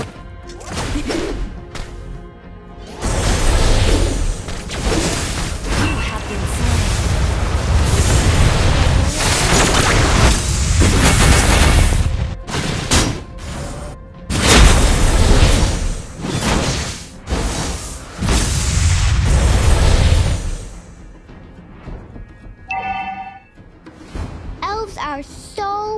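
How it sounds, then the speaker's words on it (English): Explosions and crashing impacts from a mobile battle-arena video game as a turret is destroyed, loud booming bursts and whooshes dense for most of the stretch, then quieter game effects and chimes near the end. "Our turret has been destroyed."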